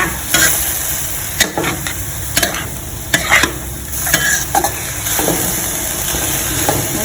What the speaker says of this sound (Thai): เราก็จะใส่ใบกะเพรา ผัดใบกะเพราให้ให้สุกกลับไปกลับมา